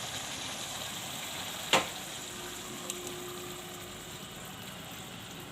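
Papdi (fafdi gathiya) goes into a pan for a Gujarati shaak and sizzles with a steady, quiet hiss, broken by one sharp clatter near the start and a faint low hum in the background.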